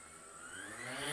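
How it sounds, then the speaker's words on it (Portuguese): Drone propellers spin up to a steady rising whine, the motor hum growing in pitch and loudness over about a second, close by with no voices. "Eu espero acionar todas as hélices desse drone."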